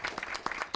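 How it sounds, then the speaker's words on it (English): Applause from the audience at a city council meeting, a brief patter of scattered claps at moderate distance, fairly soft and heard on its own. "one more big round of applause"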